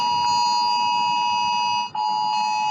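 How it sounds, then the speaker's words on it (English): UK government emergency alert system tone, a loud steady electronic alarm with a sustained high pitch and harmonics, continuous apart from one brief dip near the end. "This is the sound of the UK government's emergency alert system."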